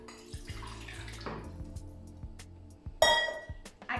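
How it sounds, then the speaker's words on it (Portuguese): Water, 240 ml, runs into the pan of a Lidl Silvercrest bread machine for French bread dough, a soft splashing pour ending in a bright clink and drips, with no talking. "vamos começar colocando os 240 ml de água"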